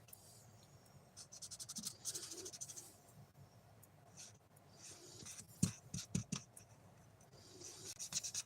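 A chisel tip marker scratches and rubs across card in short, quiet strokes, faint up close with a few sharper taps and scrapes.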